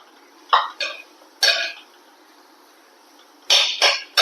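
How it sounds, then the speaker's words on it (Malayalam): Cooked rice is tipped into a pan and stirred while making egg rice, giving a few short, separate clattering scrapes of spoon against the pan with quiet pauses between them. "ഇനി നമുക്ക് ഈ ചോറ് ഇതിലിട്ട് കൊടുക്കുക"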